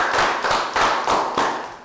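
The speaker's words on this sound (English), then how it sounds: "another round of applause for team 3, because they wrote the answer the fastest" A Year 3 maths class claps for a team in a quick, rhythmic burst of about five or six even, close, fairly loud claps in unison, with no talking.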